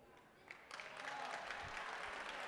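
Spectators at a prebenjamín youth football match between Polillas and Puerto clap in a steady, fairly loud wash of applause that swells after the first moment and continues to the end.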